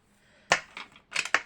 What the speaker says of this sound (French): Au ras, les ciseaux, ils sont là.